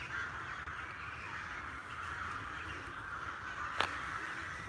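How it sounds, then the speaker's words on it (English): Crows cawing among other birds in Łazienki Park in Warsaw, a steady outdoor chorus with one sharper call standing out near the end. "do you guys see all these birds?"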